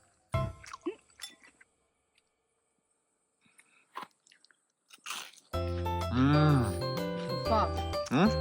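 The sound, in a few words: chewing tteokbokki cooked over a wood fire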